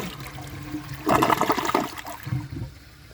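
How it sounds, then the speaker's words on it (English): A 2012 Toto Drake toilet flushes nearby: a sudden loud rush of water surging through the bowl, then gurgling and trickling as it drains and quiets. "let's give it another flush and see how much of that it can take."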